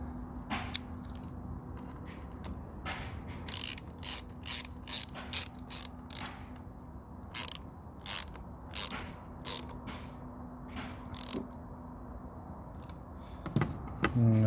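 Reconnecting the negative battery terminal on a Hyundai i30 1.6 CRDI, a series of quick close ratcheting clicks from a wrench tightening the clamp, coming in short bursts with brief pauses.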